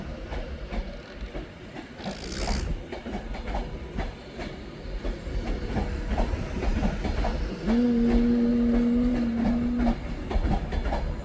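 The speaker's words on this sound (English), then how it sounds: "it is 390 200 coming in to Manchester Piccadilly from London Euston" A Class 390 electric passenger train rumbles steadily into Manchester Piccadilly station with rhythmic clattering of wheels, then a sustained tonal horn-like whine sounds near the end over the rolling noise.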